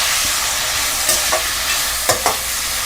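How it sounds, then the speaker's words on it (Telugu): Dried nethallu fish frying in a pan makes a loud, close, continuous hiss, broken by a few sharp spatula scrapes and taps. "ఈ శుభ్రంగా కడిగి పెట్టుకున్న నెత్తళ్ళు వేసేద్దామండి. అవి చక్కగా వేగాలి."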